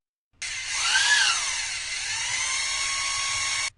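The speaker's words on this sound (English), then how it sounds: "I plugged the drill into the socket and turned the drill on." A power drill switches on and spins with a steady, high whine, ramping up quickly and then holding loud and even for about three seconds before it cuts off abruptly.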